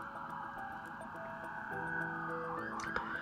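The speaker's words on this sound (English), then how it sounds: "there's a police siren, so let's just let that pass for a second" A siren wails at a distance, its rising and falling tone steady over a low background hum, growing slightly louder near the end.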